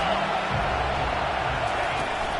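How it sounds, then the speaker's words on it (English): The home crowd at a Michigan State football game roars in a dense, sustained wall of cheering that fills the stadium, with no break across the short stretch and a commentator's voice faint beneath it. "how nice is it to have the home crowd going absolutely bananas?"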